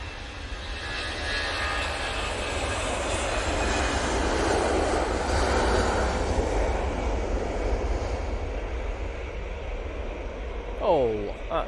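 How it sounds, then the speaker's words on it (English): An EasyJet airliner takes off at Manchester Airport, its engine roar building steadily to a broad, loud peak and easing slightly, with a brief clatter of nearby noise at the end. "EasyJet now on the roll."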